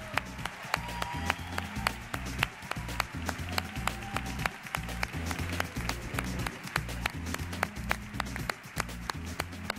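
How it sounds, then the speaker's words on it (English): Sustained applause from a summit plenary audience, dense clapping with a steady rhythmic pulse, as if clapping along, filling the space at moderate loudness. "Huge round of applause for the delegate speakers."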